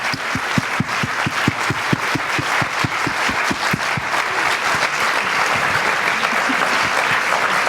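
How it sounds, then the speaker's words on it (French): An award-ceremony audience claps in steady applause that holds at an even, fairly loud level throughout, with a few sharp individual claps standing out near the front. "faisons entendre nos applaudissements à Daniel Eman"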